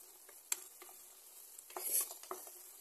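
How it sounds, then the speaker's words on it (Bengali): Spices and tomato fry in a pan, with a soft steady sizzle under scattered scraping and stirring taps from a utensil. "এবার মশলাটারে ভাজা করে নেব।"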